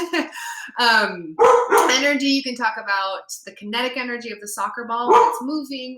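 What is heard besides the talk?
dog barking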